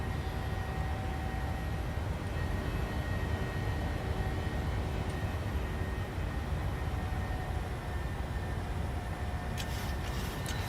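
Jet engines of a Boeing 737-700 at climb power in a flight simulator, a steady, broad roar with a faint whine, constant and unbroken throughout.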